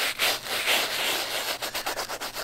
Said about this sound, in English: What's great about the brush is that you can really work your way into those nooks and crannies